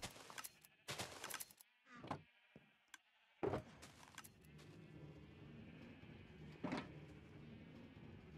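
Sheep in the video game Minecraft bleat in short, separated calls, a few quick bleats near the start followed by a quieter, steady background hum with occasional brief sounds.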